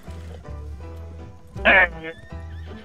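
A horse in the Red Dead Online video game whinnies loudly once for about half a second, a shrill burst rising above steady in-game music and ambience, with a person talking briefly around it.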